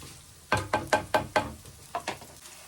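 Ingredients sizzle and fry in a pan, broken by a series of sharp knocks and scrapes from stirring, about six distinct strikes over a low steady hiss, close and moderately loud with no talking.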